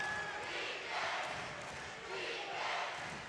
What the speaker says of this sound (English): Crowd getting loud here at the Convo.